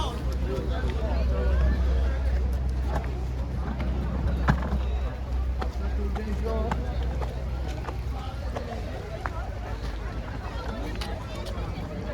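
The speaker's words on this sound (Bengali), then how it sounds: "এই দেখুন সব নৌকাগুলো এক জায়গায় চলে আসছে।" Several boats converge in a Sundarbans waterway, their low engine drone and water noise running steadily beneath a busy hubbub of nearby voices and people talking.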